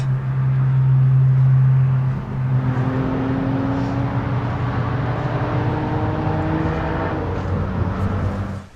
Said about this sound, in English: the neighbor turned their car on to run the heating